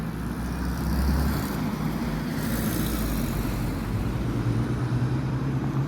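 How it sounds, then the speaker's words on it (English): A bus rolls past on a street in Haverhill, Suffolk, a steady low engine rumble with broadband road noise that swells slightly and holds throughout, moderately near with no talking. "It's the second bus I've seen so far down in this direction."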